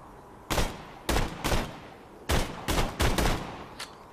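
A gun firing three-round bursts in Borderlands 2, with about seven loud, close, sharp shots in short irregular clusters and brief pauses between them, with no talk.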